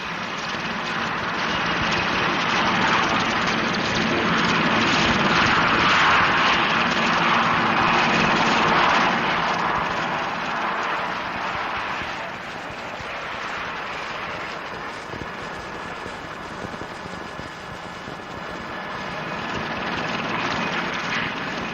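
Continuous broad roar of a Puma helicopter's engine and rotor, loud and steady, swelling slightly then easing, with no speech.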